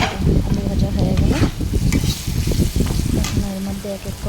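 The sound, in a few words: potatoes frying in spiced oil in a pan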